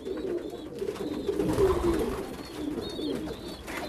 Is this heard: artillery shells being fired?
no